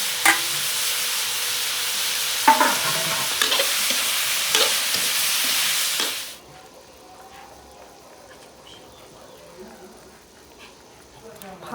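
A pot bubbles on the stove during a home cooking session in an Akha kitchen in Thailand. A loud, steady hiss of boiling and sizzling with occasional clinks fills the first half, then drops to a much quieter simmer.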